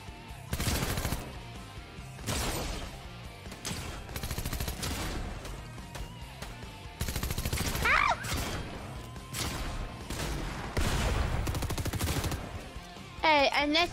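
Rapid bursts of video game gunfire crack repeatedly across the stretch, loud and close, with brief gaps between volleys and a voice speaking under the shooting.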